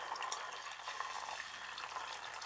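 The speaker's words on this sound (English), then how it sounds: "We wait for that to come to a boil." Sugar and water heat in a pan toward a boil for a wilted lettuce salad dressing, giving a faint, steady crackle and fizz of small bubbles close by with no talking.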